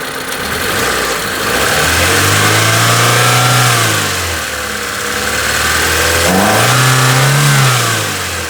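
A Proton Satria's engine runs with the airbox removed, revving up twice in loud, close surges with a rough, slightly clattering idle between them. No one speaks.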